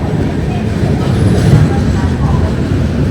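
A steady low rumble of the Navjeevan Express passenger train rolling into a station, dense and fairly loud, with muffled crowd chatter mixed underneath.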